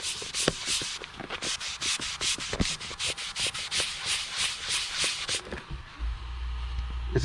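Repeated rhythmic rubbing of a cloth across a surface being wiped clean with Windex, a steady series of close, brisk strokes that stops near the end, when a low rumble comes in.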